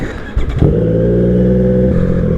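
A Triumph Street Triple 765 RS motorcycle engine fires up and settles into a steady, loud, close idle after some brief clatter at the start, with no one speaking.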